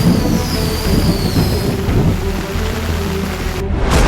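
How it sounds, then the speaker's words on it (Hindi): Heavy, steady rain pouring down during flooding in Rajasthan, a dense continuous hiss that stays loud throughout with no voices. "आसमानी आफत, बारिश बेहिसाब"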